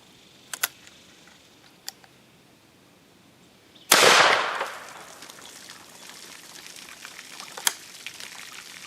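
A single .410 shotgun blast from a Rossi single-shot fired at a cantaloupe, one sharp loud report at mid-clip with a decaying tail, preceded by faint clicks and followed by quiet outdoor ambience.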